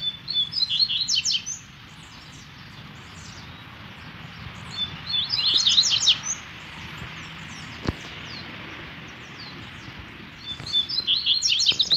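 A double-collared seedeater sings outdoors in the field, its bright chirping phrases coming in three bursts at the start, middle and end, each clear and fairly close, over a steady low hum of background noise.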